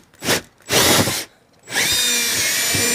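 Power drill punching a hole through a house wall for Cat5e cable, with two short loud bursts and then a longer sustained whine, close by with no talking.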